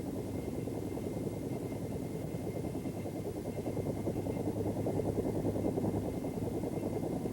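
A Bell AH-1 Cobra attack helicopter in flight makes a steady, loud, continuous rotor and turbine roar with a dense, rhythmic chop, heard alone with no voices.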